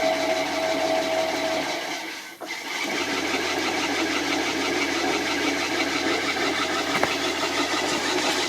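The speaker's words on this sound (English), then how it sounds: "It's actually just threading itself right into the hole automatically." A tapping machine drives a threaded hole into a metal part for a giant replica sword, giving a continuous mechanical whir and hum with a brief dip as the motor reverses, then steady running.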